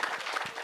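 A meeting crowd bursts into applause for a speaker, a brief, close wash of many hands clapping at once.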